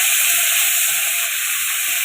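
Onion paste goes into hot oil spiced with whole dried red chillies and bay leaves, giving a steady close hiss and sizzle with a few soft low bumps from the pan.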